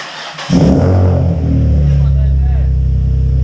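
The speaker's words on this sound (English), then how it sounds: "Let's see what it sounds like. It's going to sound loud." A Nissan 350Z engine, fitted with modifications, cranks and fires up with a loud burst, then settles into a deep, rumbling, slightly uneven idle.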